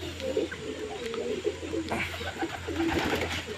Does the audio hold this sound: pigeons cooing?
yes